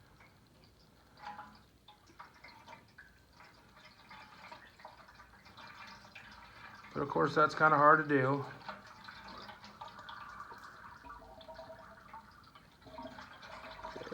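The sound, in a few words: liquid being poured and spilling out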